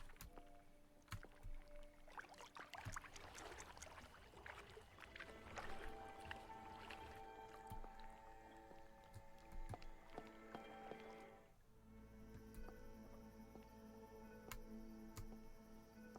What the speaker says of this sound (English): I love listening to water.